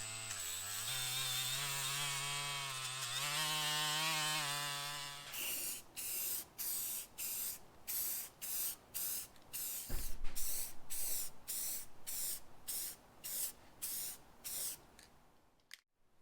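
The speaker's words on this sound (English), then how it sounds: "I'll prep it up and then spray it" Spray can coating Jeep Wrangler tire carrier hardware black, a steady hiss that then breaks into a run of short rhythmic bursts, close and fairly loud, with no talking.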